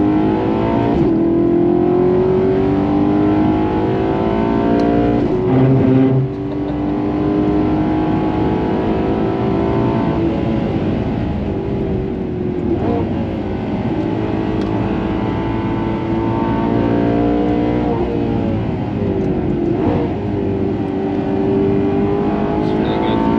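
A Maserati GranTurismo MC Stradale engine pulls hard under acceleration from inside the car. The loud, rasping drone rises in pitch through the gears, with brief dips at the upshifts.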